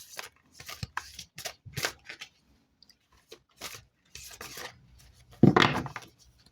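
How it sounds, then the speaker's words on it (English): Tarot cards being shuffled and drawn from the deck, heard close up as a series of short papery rubs and flicks, with a louder burst of riffling near the end. No one speaks. "let's pull some cards for this."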